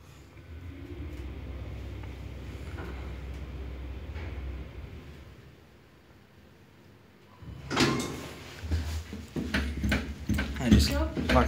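KONE elevator door at a Sokos department store sliding open, a sudden burst of clattering and rumbling after a stretch of steady low hum, with people talking nearby.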